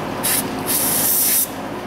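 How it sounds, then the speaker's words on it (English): Brake cleaner hisses from an aerosol can onto a Toyota Camry engine with a broken timing belt: one short spray, a brief pause, then a longer steady burst close by over a low background hum. "I want to take some brake cleaner and just spray that right there a little bit."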